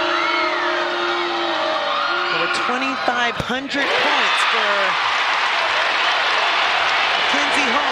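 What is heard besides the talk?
basketball arena crowd cheering for Mackenzie Holmes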